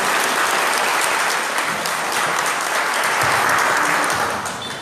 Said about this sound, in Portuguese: vamos receber com a salva de palmas